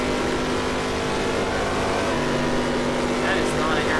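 A NASCAR race car engine drones steadily with a rough, uneven tone under a broad roar of track noise at Michigan, and voices come through faintly.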